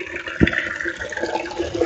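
Tap water running steadily into a container on a terrace garden, filling it with a continuous splashing rush that has a brief louder gush near the start, heard close and with no voices.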